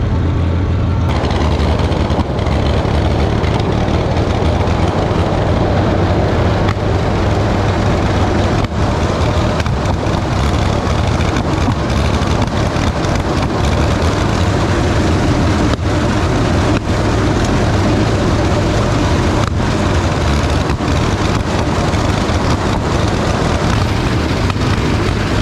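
A tractor working a hay field runs with a continuous loud engine roar and rough mechanical rumble, steady and close, with no speech over it.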